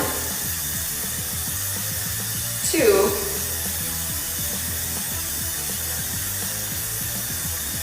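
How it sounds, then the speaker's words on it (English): Aerosol spray paint hisses steadily and continuously from a can, an unbroken broadband spray held for the whole stretch, with a brief voice counting partway through. "you'll notice that I am continuously spraying and not starting and stopping, as this can cause buildup at the nozzle"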